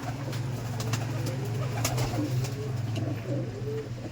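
Teddy pigeons coo steadily and softly at close range against a constant low background hum.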